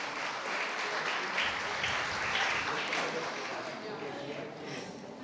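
An audience at a school award ceremony claps steadily for several seconds, a dense, even wash of applause that fades slightly toward the end.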